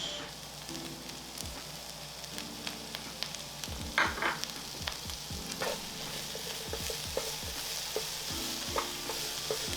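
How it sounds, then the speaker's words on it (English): Vegetables fry and sizzle in oil in a pan, with a steady crackling hiss broken by repeated scraping and clacking strokes of a utensil as they are stirred, close and moderately loud with no talking. "And then we use that to cook the veggies."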